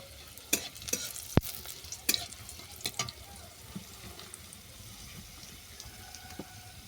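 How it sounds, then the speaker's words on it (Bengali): Garlic and chopped dried red chilies fry in oil in a pan, with a low steady sizzle broken by a few sharp clatters and spoon knocks as the pan is stirred; no one speaks. "রসুনগুলো বাদাম করে ভেজে নেওয়ার পর দিয়ে দিচ্ছি কয়েকটা কুচানো শুকনো লঙ্কা"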